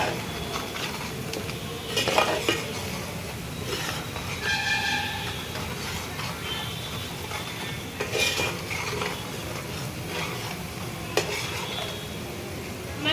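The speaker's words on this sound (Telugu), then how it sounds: "వేసుకున్న మసాలాలన్నీ ఒక్క నిమిషం పాటు ఫ్రై చేసుకొని" Spices for a fish curry fry in a pan and are stirred, a steady sizzle broken by repeated metallic scrapes and clinks of a spoon against the pan, close and with no talk.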